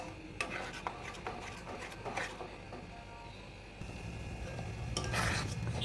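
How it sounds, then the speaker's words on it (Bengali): A spoon scrapes and stirs a milk and chhana mixture for kalakand in a pan over a low gas flame, giving faint, close, repeated scraping strokes and soft clinks, growing slightly louder toward the end. "এবার এটাকে কন্টিনিউ নাড়তে হবে যতক্ষণ না এটা শুকনো হয়ে আসে।"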